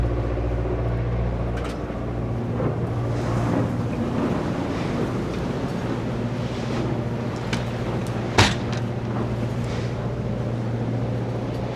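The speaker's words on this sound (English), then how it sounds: "How you feeling about this wind?" Strong wind roars across a fishing boat jigging for Pacific cod at sea off Alaska, a steady buffeting rush with waves and engine rumble beneath and a brief clunk partway through.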